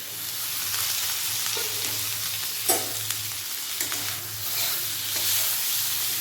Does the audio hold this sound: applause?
no